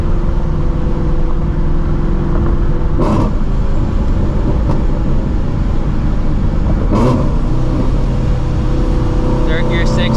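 A supercharged Shelby GT350 on Nitto NT555R2 drag radials pulls hard, heard as a loud, steady, close engine and road roar with a few brief sharper bursts.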